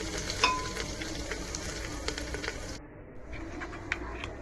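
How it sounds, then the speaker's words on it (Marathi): Mustard seeds and cumin fry in hot oil inside a pressure cooker, a faint soft sizzle with scattered small pops and crackles heard alone. "कुकरमध्ये मी तेलात थोडी मोहरी, जिरं टाकून फोडणी देणार आहे"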